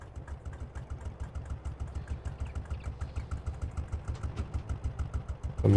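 A small Porsche Diesel Master tractor in Farming Simulator 22 idles steadily nearby, a low, even diesel chug with a regular pulsing beat and no other sounds.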